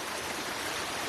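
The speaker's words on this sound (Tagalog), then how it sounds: "Ay, malakas yung agos." Strong river current rushing steadily after rain, a dense, continuous wash of flowing water close by with no pauses.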